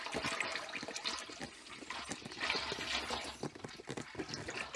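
Shiraz wine kit ingredients poured into a pot, a close, busy gushing and splashing of liquid that carries on steadily for several seconds with no speech.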